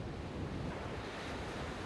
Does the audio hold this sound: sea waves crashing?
yes